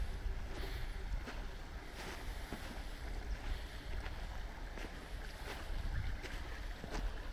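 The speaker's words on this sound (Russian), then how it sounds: "Бельбек достаточно речка такая серьезная." The Belbek river in Crimea rushing high after rains, a steady, dense roar of flowing water and rapids, heard fairly close and constant throughout without speech.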